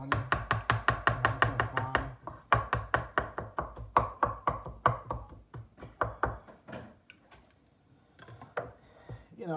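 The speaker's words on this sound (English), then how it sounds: "You chop it like the onion." Rapid knife strokes chopping garlic on a cutting board for an Italian-style burger, a steady close run of crisp knocks that thins and slows toward the end.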